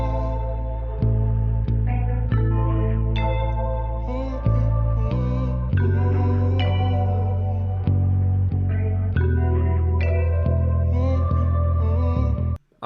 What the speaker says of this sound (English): Everything put together sounds like this without the master effects.